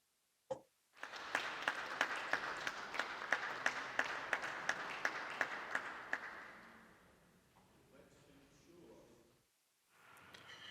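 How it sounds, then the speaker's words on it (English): Audience applauding after a talk on humane technology, a round of clapping with distinct sharp claps that swells, holds for several seconds, then thins out and fades, with faint voices near the end. "there was a good round of applause at the end of your remarks, Nell."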